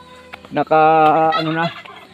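A loud, close turkey gobble on a goat farm, a quick rattling call that holds for about a second before cutting off.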